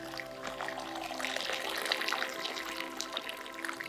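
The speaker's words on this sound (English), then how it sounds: "we're just gonna get some more water too" Water poured into a pot for natural dyeing makes a steady splashing trickle with small bubbling gurgles, fairly faint and continuous, with no talk over it.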